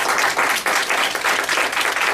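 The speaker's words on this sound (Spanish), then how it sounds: "Nos damos otro aplauso" A lecture audience claps after a talk on the origin of patriarchy, a short burst of many hands with a loosely pulsing rhythm, loud and close, lasting about two seconds.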